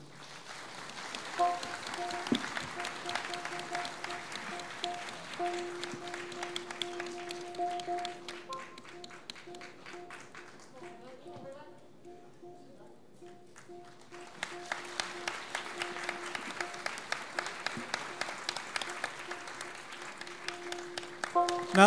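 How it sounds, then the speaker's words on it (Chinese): An audience applauds after a Myanmar boxing (lethwei) bout, a steady patter of clapping from a moderately distant crowd that fades to near quiet midway and then swells again in denser bursts, with no talk over it. "那请大家为两位选手的好表现鼓掌。"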